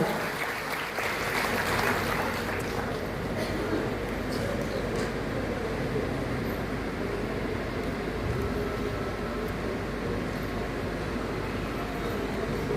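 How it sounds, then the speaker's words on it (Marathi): An audience clapping at a farmers' welfare event held by an agricultural produce market committee: a dense, sustained wash of applause throughout, steady in loudness, with faint voices mixed in. "आपण टाळ्या वाजवून यांचं सर्वजण स्वागत करूया"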